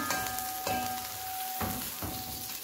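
A lump of ghee melting in a hot, freshly dried pot, a soft steady sizzle and crackle with a few faint scraping stirs, quiet and close, no voices.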